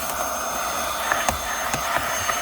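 Autobot VX Max car vacuum running steadily while sucking up glitter from a car interior surface, with a constant whine and a few brief clicks and rattles as particles are pulled in.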